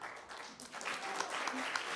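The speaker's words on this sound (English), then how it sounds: "And another round of applause for Maddie and Ben." Audience applause at a panel discussion event, a steady patter of clapping that swells slightly and continues evenly, fairly close and moderately loud.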